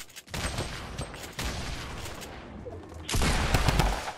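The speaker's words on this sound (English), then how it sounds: "Oh, minigun." A minigun in Fortnite fires in long, rapid bursts, a dense rattling stream of shots with short gaps, growing louder and closer toward the end.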